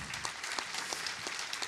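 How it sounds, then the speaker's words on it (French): Audience applause fills a conference hall after a talk on the Planck space mission, a steady mass of clapping with scattered sharper claps throughout, fairly faint and with no voices over it. "Vous pouvez les applaudir"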